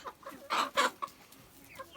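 Sussex chickens cluck close by in short, uneven bursts, a few louder squawks rising over softer background clucking.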